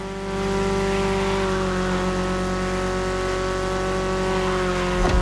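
A 1982 BMW E30 driving in The Crew Motorfest, a steady droning engine note holding a constant pitch before a brief change near the end.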